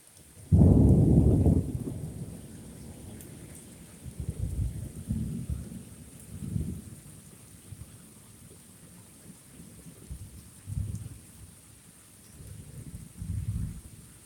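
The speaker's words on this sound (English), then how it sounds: "It's more just me recording some storm." A thunderstorm with a loud, close thunder crack early on, followed by several lower rumbles rolling in and out over steady rain, with no voices.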